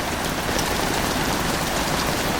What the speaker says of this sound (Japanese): ちょっとこの雨じゃ、びしょ濡れになっちゃうな。